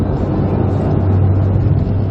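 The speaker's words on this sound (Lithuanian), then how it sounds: "Pasikeičia garsas automobilio." A steady, low engine drone hums continuously, deep and even throughout, with no pauses or revving peaks.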